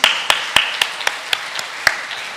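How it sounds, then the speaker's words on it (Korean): A church congregation gives scattered, uneven claps, about eight sharp hits spread over two seconds over a steady roomy hiss rather than full sustained applause. "하나님께 영광의 박수 올립니다."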